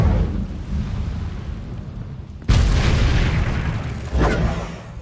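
Fire spell blasts in Hogwarts Legacy: two sudden loud booming bursts with roaring whoosh, the first at mid-clip and a second shortly after, over a constant rumbling game background.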